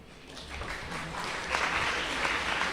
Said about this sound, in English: A round of applause for LaForce